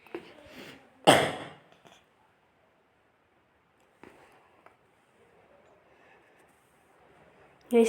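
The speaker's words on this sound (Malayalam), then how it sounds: "ചെറിയ ചുമയൊക്കെ ഉണ്ടോ?" A person gives a sharp cough, then a few fainter throat noises and rustles, with long quiet gaps between them in an otherwise still setting.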